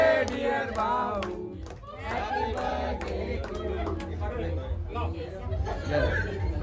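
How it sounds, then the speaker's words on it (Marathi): A large, noisy crowd at a night-time birthday celebration, with many overlapping voices, shouts and chatter close by forming a continuous hubbub. "तर भरपूर गर्दी आहे, प्रचंड गर्दी आहे"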